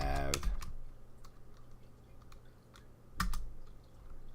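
Short bursts of keystrokes on a computer keyboard, one quick cluster at the start and another near the end, with a quiet pause between them and no talking.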